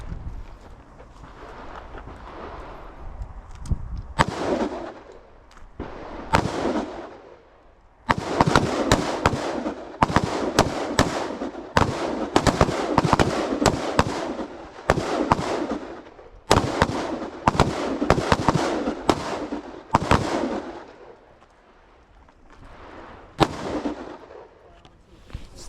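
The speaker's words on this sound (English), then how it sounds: "Go to take 3 to 5 shots." Rifles fire at an outdoor shooting range in Hawaii, with many loud, sharp cracks in irregular bursts and clusters over about twenty-five seconds, some close and some from neighbouring shooters, and faint wind and voices between shots.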